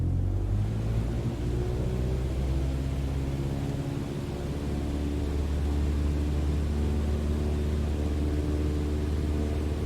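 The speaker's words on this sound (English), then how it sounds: "Apply full power and I'll walk you through the takeoff as we go." A light aircraft's engine runs at full takeoff power in Microsoft Flight Simulator 2020, a steady, loud droning rumble that holds evenly throughout with no voices.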